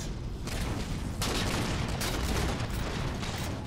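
Continuous, dense gunfire in a Halo: The Master Chief Collection multiplayer match, a steady loud roar of overlapping shots and bursts throughout.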